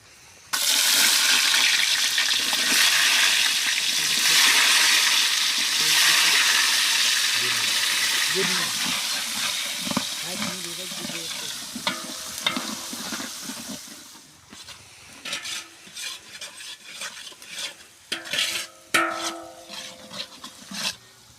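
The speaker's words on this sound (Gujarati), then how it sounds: "હવે આપણે આમાં નાખશું ડુંગળી." Onion tipped into hot oil already tempered with cumin and mustard seeds for Girnari khichdi, giving a loud burst of sizzling and hissing that gradually dies back to softer crackle and scattered stirring clatter.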